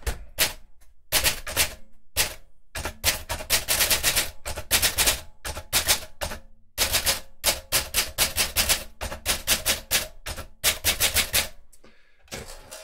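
An Olympia SM5 manual typewriter types onto carbonless copy paper in rapid, loud, close key strikes, running in bursts with short pauses between them.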